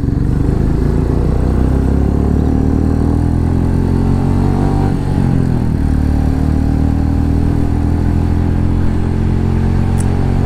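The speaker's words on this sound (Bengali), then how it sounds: "একটু বাইকটা টেনে দিলাম জোর করে ঘুরিয়ে" A motorcycle is pushed hard on a Sunday road ride between Bishnupur and Arambagh, its engine roaring loud and close without a break, mixed with rushing wind.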